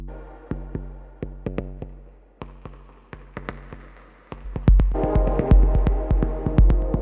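Punchy drum machine kick drum hits repeat in a loose pattern, growing denser and louder halfway through as other layered beats join in.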